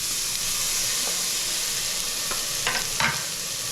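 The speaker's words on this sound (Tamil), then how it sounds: "இப்போ வழக்கம் போல் எப்பயும் பண்ணுற மாதிரி வெங்காயம் போடுவோம்." Onion fries in a pan with a soft steady sizzle, broken by a few brief scrapes and clinks of stirring near the end.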